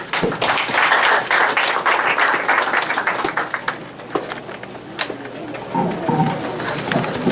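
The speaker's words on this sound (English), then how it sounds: "Give him a clap" An audience at a PhD defense applauds the candidate with a sustained burst of clapping that thins out toward the end, with a few voices faintly audible.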